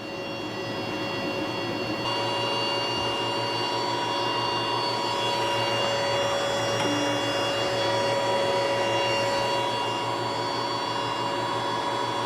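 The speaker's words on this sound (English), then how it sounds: "And just kind of engraving on some cardboard here." Constant fan-like whirring hum with steady tonal whine from a WeCreat Vision laser engraver engraving cardboard, unbroken and even throughout.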